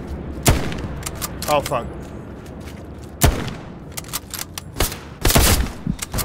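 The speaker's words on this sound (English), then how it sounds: "I hear him shoot" Sniper rifle fire in the World War II shooter game Hell Let Loose: several sharp, loud cracks spaced a few seconds apart over steady battlefield background, with a man cursing briefly.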